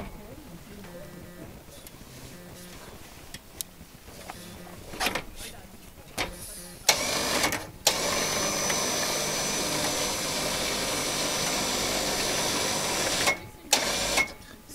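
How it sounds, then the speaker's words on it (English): A winch on a Jeep JK rear bumper tire carrier lowering a large spare tire, a steady mechanical whine and rumble running for several seconds after clicks and clunks, fairly close. "you're able to use the winch to go ahead and lower and raise your tire"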